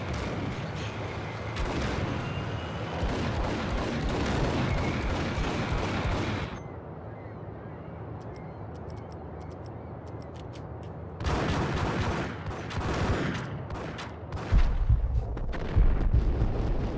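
Gunfire in Max Payne erupts in loud, dense, crackling volleys with booming low end, breaks off into a quieter stretch, then returns in heavy bursts and thumps.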